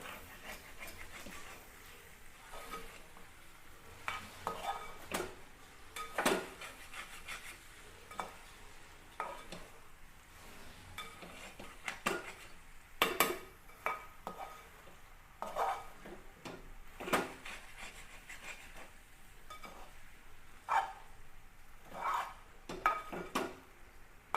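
A spoon stirs and scrapes beef fry in a pan with curry leaves and a little added oil, giving repeated sharp scraping strokes over a soft sizzle at close range, with no talking.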